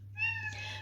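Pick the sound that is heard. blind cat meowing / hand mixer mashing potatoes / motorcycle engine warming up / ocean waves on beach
blind cat meowing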